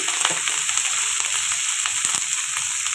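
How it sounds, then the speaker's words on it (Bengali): Pointed gourd pieces frying in mustard oil with turmeric and spices in a home kitchen, giving a steady, close, dense sizzle throughout with faint stirring clicks and no talk. "এবারে হালকা করে ভেজে নেব"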